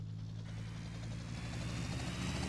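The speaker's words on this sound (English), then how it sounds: "Helicopter." Helicopter in GTA Vice City, a steady low rotor and engine drone with strong humming tones, constant and fairly close, alone with no talk.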